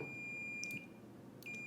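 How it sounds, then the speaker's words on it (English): A multimeter set to continuity, probing a pool heater's fireman's switch, gives a faint, thin high-pitched beep, followed by a shorter second beep over quiet background hum. "I just have this multimeter set to continuity."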